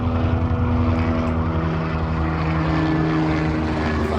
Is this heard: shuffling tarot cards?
no